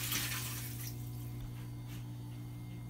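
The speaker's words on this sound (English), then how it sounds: "I'm straining it." Blanched horsetail and its cooking water are poured through a strainer into a kitchen sink, making a steady close rush and splash of running liquid over a low background hum for the whole stretch.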